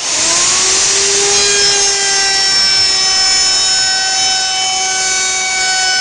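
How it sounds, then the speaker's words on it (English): A router fitted with an ogee-style bit cuts along the edges of a wooden box bottom, a loud, steady high-pitched whine with a bright tonal hum held unbroken from start to finish, close to the microphone. "I'm just going to route all 4 edges of my bottom piece"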